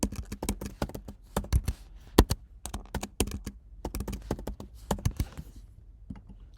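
Keys on a computer keyboard are tapped in quick, irregular bursts as a password is typed, close and fairly soft, with no talking.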